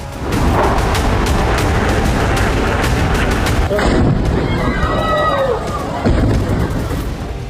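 Heavy bombardment in Israeli strikes on Hamas tunnels, loud dense rumbling blasts and sharp cracks piling over one another, with voices faintly mixed in.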